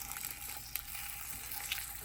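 An egg fries in a seasoned carbon steel pan, producing a soft, steady sizzle and hiss at low level, with a couple of light clicks from a spatula.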